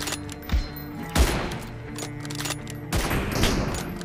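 Gunfire in the mobile battle-royale game PUBG Mobile with an M24 sniper rifle, a few sharp, heavy shots spaced over a few seconds over a steady game background.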